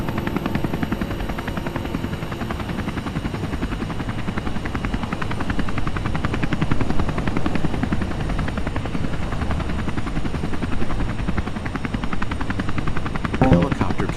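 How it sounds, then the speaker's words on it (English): A helicopter's rotor thumps continuously and loudly, a steady rapid chopping throb with engine whine, no voices present. "The helicopter cannot evacuate you while the rotor is running."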